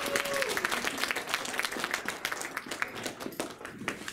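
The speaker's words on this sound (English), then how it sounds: "Can I get a round of applause for Reid" A modest panel audience gives a round of applause, a lively stream of individually audible hand claps, fairly close and steady throughout the short stretch.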